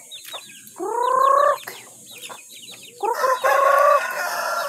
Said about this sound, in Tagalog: magpapakain tayo ng alagang manok